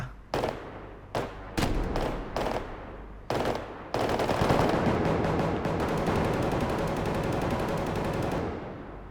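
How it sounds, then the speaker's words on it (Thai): Rapid automatic gunfire from a Roblox gun game, opening with several short separate bursts and then breaking into one long sustained stream of shots that stays loud and close until it cuts off near the end. "ดูมันยิงดิ ดูมันยิงดิ"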